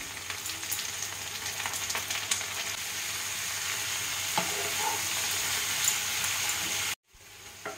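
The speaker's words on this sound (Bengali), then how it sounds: "এবার এই চিংড়ি মাছটার সাথে আমি পেঁয়াজটা আবার ভাজবো।" Prawns and onion fry together in a pan, giving a continuous close sizzle with frequent scraping stirs, until the sound cuts out abruptly near the end.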